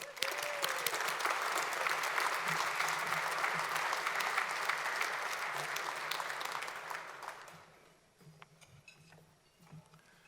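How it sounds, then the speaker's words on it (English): Audience applause for Ken Greenberg at a panel event, a steady dense wash of clapping for about eight seconds that then fades away into quiet room noise. "please join me to give a big round of applause for Ken Greenberg"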